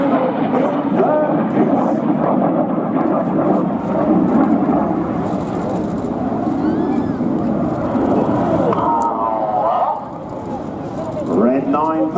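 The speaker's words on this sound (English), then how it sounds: "Red 9 about to fly straight down the middle" Red Arrows display jets pass with a deep, heavy roar that swells and rumbles for several seconds and then fades. An announcer talks over the aircraft noise throughout.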